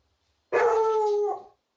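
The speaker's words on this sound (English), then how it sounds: "even the dog agrees" A single dog lets out a sustained howl lasting about a second, a clear tonal wail that bends slightly at the end, alone and close with no talk around it.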